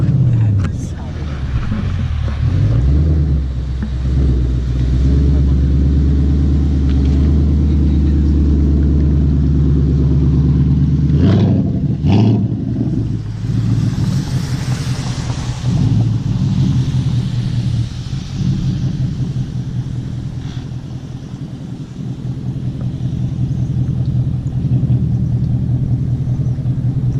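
A 2016 Ford Mustang GT V8 with an aftermarket intake and tune revs hard toward nearly 8,000 RPM, a loud, close roar that rises and falls, with people talking over it.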